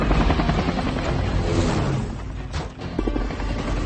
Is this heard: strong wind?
no